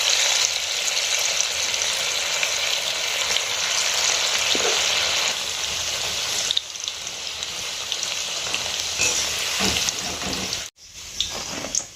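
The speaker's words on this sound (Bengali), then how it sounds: "এইভাবে আমি একে একে সব সয়াবিনগুলোই ভেজে নেব" Soybean chunks frying in hot oil for a chilli soybean dish, a steady crackling sizzle throughout with a few brief clatters and a short break near the end.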